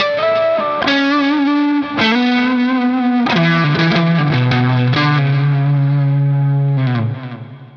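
Overdriven electric guitar played through an Ernie Ball Expression Overdrive with its boost engaged, a loud sustained lead line with singing held notes, short melodic runs and a gain-heavy, mid-forward tone fading on the final note.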